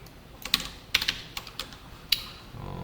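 Sparse keystrokes on a computer keyboard while coding in a Java editor: a single tap, a quick cluster of three or four presses, then one more crisp click, close and fairly quiet with no voices.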